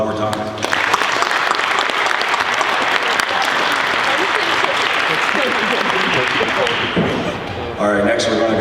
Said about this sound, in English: I want to give each one of them a round of applause one more time.